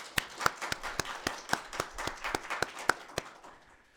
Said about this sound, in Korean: 박수로 감사를 표하겠습니다.